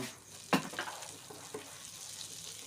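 Butter sizzling in a pan while pav bhaji is cooked, a faint steady fry with a single sharp clink near the start and soft scraping stirs after it.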